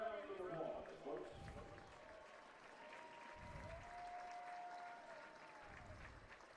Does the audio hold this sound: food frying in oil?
no